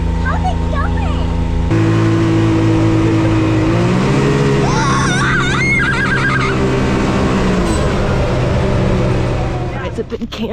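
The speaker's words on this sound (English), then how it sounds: "It's a big Can-Am X3 and I'm running through the trails." Can-Am X3 side-by-side driving along trails, its engine droning loudly and steadily with a shift in pitch partway through, while people talk and shout over it near the microphone.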